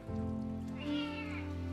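A glue-covered kitten being washed at an animal emergency clinic meows in a drawn-out cry, rising then falling, over steady running water or spray noise.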